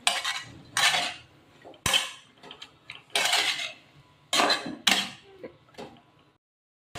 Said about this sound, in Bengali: এবার 2-3 মিনিট একটু নাড়াচাড়া করতে হবে।